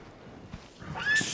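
A horse in Red Dead Redemption 2 lets out a short, close whinny near the end of a brief, quiet game sound scene, with faint soft thuds before it.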